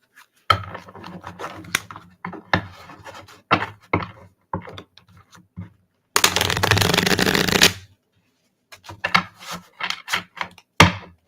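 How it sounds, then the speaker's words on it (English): Cards are shuffled up close in quick crisp bursts of flicking and tapping, with one long continuous riffle in the middle and quiet pauses between. "Good card shuffling ASMR today on the pod."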